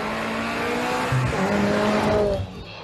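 A rally car in the TGR Rally 2024 at Shibukawa Ikaho, on special stage SS2, is driven flat out. The engine strains at high revs with tyre noise and shifting pitch, heard from close by, then the sound drops away near the end.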